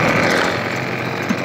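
A modified SSR125 pit bike engine running close by and in need of a small carburetor adjustment, a loud, steady raspy buzz with no pauses over its brief length.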